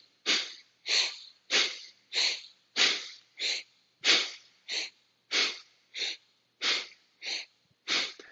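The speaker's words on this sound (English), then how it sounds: "This is often referred to as breath of fire." Rapid yoga breath of fire comes as forceful nasal exhalations, a dozen or so sharp, evenly spaced puffs each with a short silent gap, close and clear with nothing else heard.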